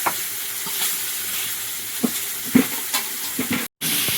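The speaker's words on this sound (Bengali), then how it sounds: "শেষে মাছ আর মেজা ভাজা চলছে" Loud, continuous sizzling of rohu fish frying in hot oil in a wok, punctuated by occasional spatters and scrapes of a spatula, with a brief cut near the end.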